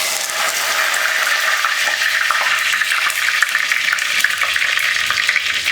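Steady, loud sizzling and crackling of fenugreek seeds frying in hot oil for fish curry, continuous throughout with small popping bursts and no voices.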